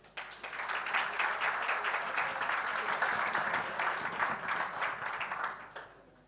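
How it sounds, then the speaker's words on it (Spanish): Sustained, dense applause from a conference audience at an international district energy event in Chile, loud and steady for several seconds before tapering off at the end. "Le invitamos a subir a este escenario con un fuerte aplauso."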